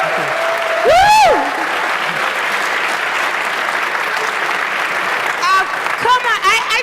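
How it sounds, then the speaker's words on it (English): Sustained audience applause fills a tech conference hall, loud and steady throughout, with whoops and cheers rising over the clapping near the start and again toward the end. "give him a big round of applause"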